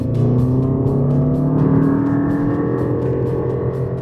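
A Lexus RX450h hybrid with a CVT gearbox accelerates at full throttle, its engine holding a loud, steady drone that climbs only gradually in pitch without any gear changes, with no talking.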